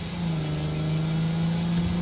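Car driven in Cyberpunk 2077, a steady engine hum with a constant low whir holding even pitch, close and without speech.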